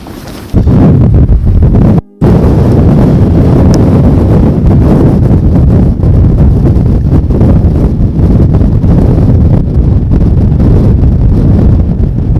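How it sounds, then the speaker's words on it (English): Strong wind on an exposed hilltop tor in the Scottish Borders buffets the microphone with a loud, continuous roar and rumble, broken only by a brief dropout near the start. "I'm hoping you can hear me because of the wind"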